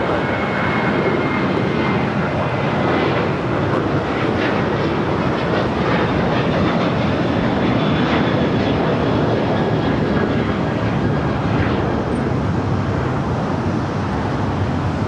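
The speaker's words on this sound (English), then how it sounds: "That flight taking off was American Airlines Flight 3175 heading to SFO" American Airlines jet airliner taking off at LAX, a sustained loud broadband engine roar that holds steady throughout, with faint high whines drifting over it and no voices.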